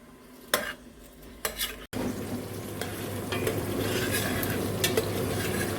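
Sliced onions sizzle steadily in hot oil in a pot over a medium-high flame, with a few spoon scrapes and clinks of stirring at the start before a constant loud frying hiss.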